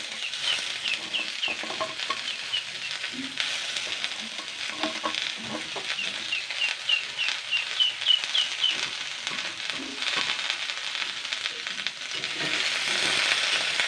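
Pumpkin leaves, pumpkin stalks and potatoes frying in a pan, a continuous hissing sizzle with occasional soft stirring scrapes, close by, with faint bird chirps in the background and no talking.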